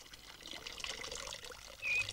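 Water pours into a Chinese water clock, a faint, brief trickling that swells to a louder splash at the very end.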